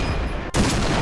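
A single loud revolver gunshot in the game Point Blank cracks sharply mid-clip, followed by a steady wash of gameplay noise.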